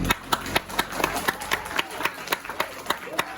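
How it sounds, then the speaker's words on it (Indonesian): An audience at a Balinese Drama Gong stage performance claps in sharp, scattered hand claps that come steadily at moderate volume, with voices murmuring underneath. "Tepuk tangannya dong"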